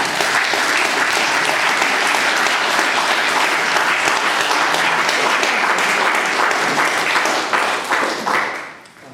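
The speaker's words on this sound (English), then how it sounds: "a little clap for Professor Well," An audience gives a professor a sustained round of applause, dense steady clapping at an even loudness throughout before it tapers off at the very end.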